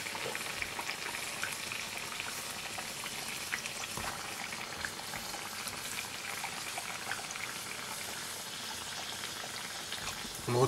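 Bokit, a Johnny cake bread dough, frying in hot oil with a steady dense sizzle and bubbling that holds constant throughout, close and alone without any voices.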